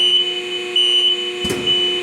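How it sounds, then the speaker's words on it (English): An alarm sounds on an Extrude Hone Profile 150 abrasive flow machine, a loud, steady electronic beeping tone with a brief mechanical thump partway through, no speech. "And there's the alarm."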